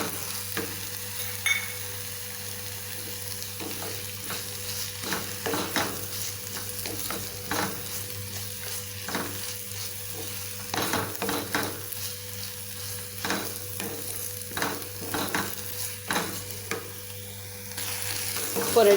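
Raw mango with curry leaves sautéing in hot oil: a steady soft sizzle broken by repeated scraping stirs of a spoon against the pan, close and fairly quiet, with no talking.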